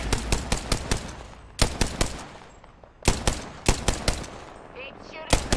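Rapid bursts of automatic gunfire in a battle-royale shooter video game, loud repeated volleys in clusters with short gaps, plus a brief game sound effect near the end.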